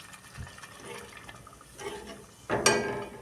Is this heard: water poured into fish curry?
yes